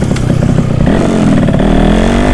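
A Yamaha YT115 trail motorcycle engine revs loud and close, its buzzing single-cylinder note rising in pitch as the throttle opens and holding steady at a high rev.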